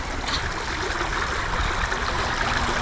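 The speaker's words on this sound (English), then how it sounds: "And you hear the creek." Creek on a homestead after winter runs steadily, a continuous close wash of trickling, gurgling water at an even moderate level with no voices.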